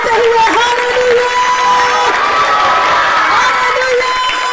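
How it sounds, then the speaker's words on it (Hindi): Worshippers in a congregation raise a sustained, loud wall of cheering and shouted hallelujahs, with applause blended into the crowd noise and sustained vocal tones riding on top. "जोरदार ताली बजाते हुए हालेलुया"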